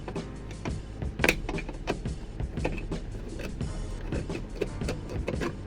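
Screws are worked loose from a part of a 1971 Dodge Challenger R/T 440 Six Pack during restoration, with close, busy scraping, clicking and squeaking of the screwdriver turning, alongside small handling knocks.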